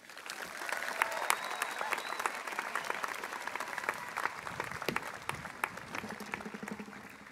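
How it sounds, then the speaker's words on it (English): A high school commencement crowd at Huntington High School applauds the valedictorian, a broad, even wash of many hands clapping across a large space, sustained and moderately distant, with faint voices mixed in. "please join me in a round of applause for your valedictorian and my best friend"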